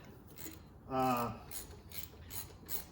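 Snap-On brown head ratchet clicking in a small engine repair shop, a short quiet burst of rapid clicks followed by faint handling noise.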